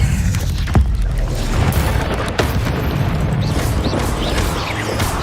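Incendio fire spell in Hogwarts Legacy erupts as a loud, rumbling whoosh of flame with booming low impacts and crackling bursts, sustained for several seconds.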